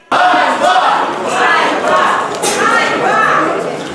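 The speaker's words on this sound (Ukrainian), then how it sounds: "У залі засідань лунали негативні вигуки у бік нової влади." Negative shouts ring out from a crowd in a city council session hall during a heated vote, a loud, dense mass of overlapping angry voices throughout.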